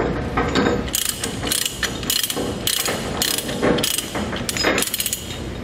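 A large heavy-duty Titan ratchet-type chain load binder for 1/2-inch chain is cranked open, giving a steady run of loud, close metallic ratchet clicks with the pawl catching in regular bursts about every half second.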